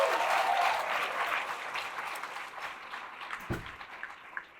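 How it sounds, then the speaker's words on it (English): Applause at a Big Brothers Big Sisters of Metro Atlanta graduation celebration honoring graduates, a steady round of clapping that gradually thins and fades over several seconds. "Let's give them a round of applause."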